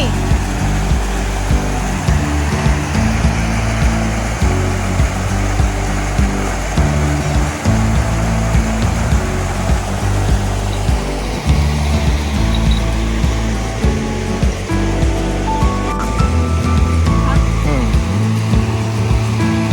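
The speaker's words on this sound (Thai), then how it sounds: "น้ำตกปูแกงเป็นน้ำตกยาวเหมือนกันนะคะ มีตั้งเก้าชั้น" Water pouring down the long, nine-tier Pu Kaeng waterfall, a steady loud broadband rush filling the whole stretch without pause, heard up close with no voices.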